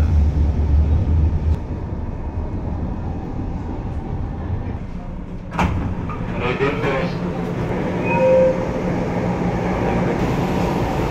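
An LRT train running on the extension between Baclaran and the next station, a steady loud rumble with a sharp clack midway and a rising hum near the end, a voice faintly present.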